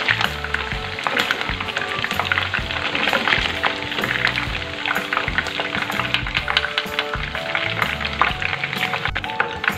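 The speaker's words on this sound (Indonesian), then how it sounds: "sekarang aku mau goreng kulitnya sampai warnanya kuning keemasan" Chicken skin frying in hot oil until golden, a dense continuous sizzle and crackle close up with occasional stirring or scraping, steady loudness with no talk.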